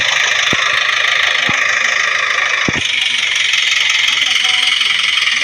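Steady loud car engine drone in a driving simulation game, a constant mid-pitched hum with a few faint knocks, running alone without breaks.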